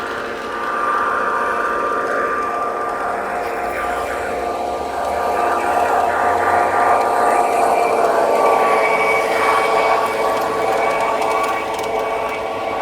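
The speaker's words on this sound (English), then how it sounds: "MTH tri-diesel with smoke and all" An MTH tri-diesel model train locomotive with smoke runs along its track, a steady whirring motor hum with a faint high whine that swells a little as it nears and then holds level.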